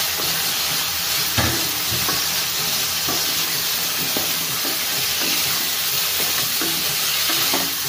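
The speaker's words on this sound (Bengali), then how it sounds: "আলুটা ভাজতে দিয়েছি, আমি এবার সজনে ডাঁটাগুলো এর মধ্যে অ্যাড করে দিচ্ছি।" Potato pieces and drumsticks fry in a pan with a loud, dense, unbroken sizzle and hiss. Scattered ticks and pops sound over it throughout.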